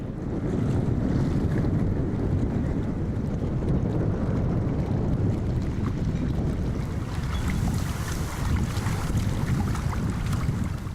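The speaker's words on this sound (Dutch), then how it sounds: "Die golven." Sea waves wash and churn under strong, steady wind buffeting the microphone at a high-water spot on the Frisian coast, a continuous loud roar with no break.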